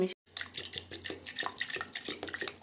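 Water is poured into a bowl of aam pora sharbat, a roasted mango drink seasoned with ground cumin, making a steady close splashing and trickling pour after a brief silent gap, with no talk.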